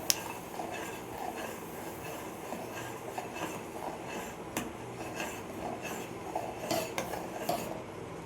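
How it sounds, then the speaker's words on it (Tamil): Wheat rava is stirred into boiling water in a pressure cooker, a spoon scraping and clinking against the metal pot in quiet repeated strokes over a low bubbling background, with no talking. "கொதிய ஆரம்பித்தோன்னே ரவையை கொட்டிகிட்டே நல்லா மிக்ஸ் பண்ணிவிட்டு குக்கரை மூடி வச்சிடலாம்"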